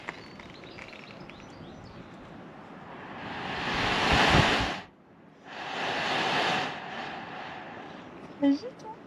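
A sea blowhole on the coast blasts air as waves push in beneath it, giving two broad, roaring whooshes that swell and fade a few seconds apart, with a faint chirp near the end.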